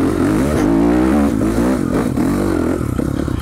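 A dual sport dirt bike engine revs loud and close while climbing slick bedrock, a steady buzzing drone whose pitch wavers up and down as the throttle shifts, running without a break for the whole stretch.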